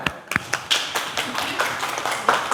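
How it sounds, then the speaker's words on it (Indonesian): Scattered hand claps from a few people in a classroom, uneven and brief, with light room noise and a faint voice in the background. "beri tepuk tangan"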